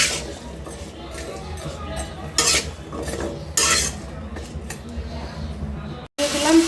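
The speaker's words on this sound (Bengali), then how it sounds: "এখন আলুগুলো আমি ভেজে নেবো" Potatoes seasoned with salt and turmeric frying and stirred in a pan, scraping and clinking spatula strokes over a soft sizzle, with a few louder bursts and a brief cut near the end.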